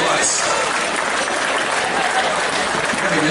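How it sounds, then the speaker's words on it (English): Spectators at an away basketball game clap in a loud, continuous burst of applause, with a dense wash of hands and crowd noise throughout and no distinct voice standing out. "Give it a round of applause."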